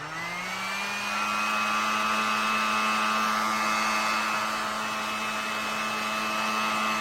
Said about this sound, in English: I'm going to use my dryer.